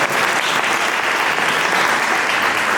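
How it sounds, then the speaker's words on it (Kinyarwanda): A church congregation applauds a choir, with dense, steady clapping filling the room throughout at a loud, even level. "Mubashimire Imana, muyikomere amashyi."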